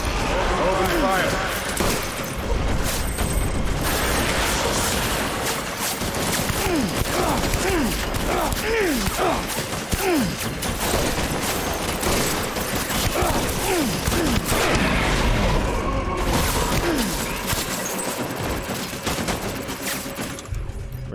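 Gunfire in Death Stranding during a final boss fight: continuous rapid bursts of automatic fire and impacts for about twenty seconds, with voices talking over the shooting.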